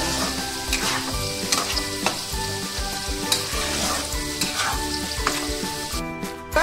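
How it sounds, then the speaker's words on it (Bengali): Banana flower and potatoes stir-frying in a pan, a loud constant sizzle with rhythmic spatula scraping and stirring knocks close up, no one speaking. "কষাতে কষাতে আলুটা ভাজা হয়ে যাবে"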